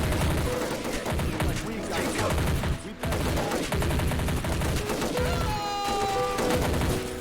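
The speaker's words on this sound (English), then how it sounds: "we're going to call the artillery on this position now" Dense, continuous battlefield gunfire and rumbling blasts from an artillery barrage in the Army Men Battle Simulator video game, loud and sustained with rapid overlapping shots throughout.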